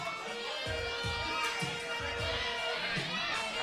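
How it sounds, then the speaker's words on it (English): Crowd at an independent BRCW Underground wrestling show reacting with scattered shouts and cheers in the hall, while a commentator talks over it throughout. "the crowd getting a kick out of the crew here"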